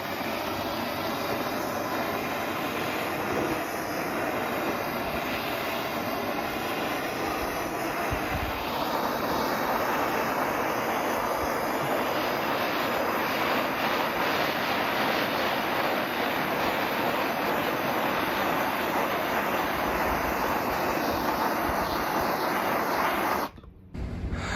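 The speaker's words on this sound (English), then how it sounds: "Now I'm using a standard propane torch." A standard propane torch running off a camping bottle roars steadily with a wide flame while heating faded plastic, loud and close for over twenty seconds before cutting off abruptly, with no voices.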